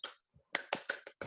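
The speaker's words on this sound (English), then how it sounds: "Clapping" A handful of separate hand claps, five or so spaced sharp slaps over about a second, greet a playwright's introduction, close and moderately loud with short gaps between.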